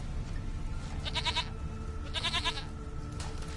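Two bleats from a goat in the video game The Witcher 3, each about half a second long with a wavering, pulsing quality, over a low outdoor ambience of wind and rumble.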